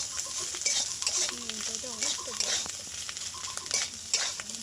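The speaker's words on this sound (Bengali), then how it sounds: "দিয়ে ফের আবারও ভালো করে নাড়াচাড়া করে নিলাম" Mushrooms and small potatoes fry in a pan as they are stirred, with close scraping strokes and clinks over a steady sizzle and a faint voice in the background.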